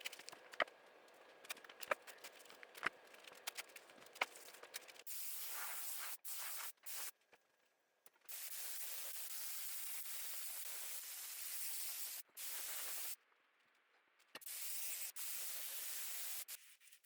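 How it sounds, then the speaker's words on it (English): A rattly aerosol can sprays gray primer and brown colour paint onto an old pot in hissing bursts, several long, steady, close sprays of a few seconds each, broken by short pauses and faint clicks, with no talk. "after 3 coats of spray paint"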